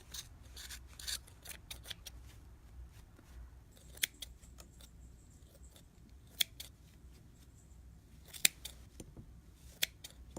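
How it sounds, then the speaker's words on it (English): Scissors snip through crochet yarn loops on an amigurumi snowman, producing quiet, close crisp clicks and rasping cuts in an irregular series, with soft rubbing of yarn between snips. "These loops over here, I'm going to cut this."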